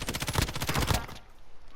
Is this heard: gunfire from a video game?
yes